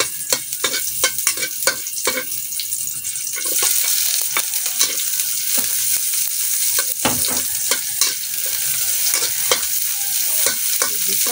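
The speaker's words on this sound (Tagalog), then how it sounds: "Gisa lang natin para mag-brown guys" Ingredients being sautéed in oil in a home kitchen pan to brown them: a steady loud sizzle with frequent sharp scraping strokes of a spatula stirring throughout, close up and with no talking.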